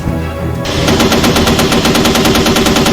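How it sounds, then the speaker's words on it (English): An Apache helicopter's 30mm cannon in Arma 2 opens up in a loud, rapid, sustained burst of rhythmic shots after a brief engine drone. "Now the Apache gunner opens up with a 30mm cannon."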